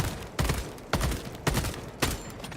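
A gun firing in the Warhammer Skulls video game, with four evenly spaced sharp shots or short bursts over steady game ambience and no talking.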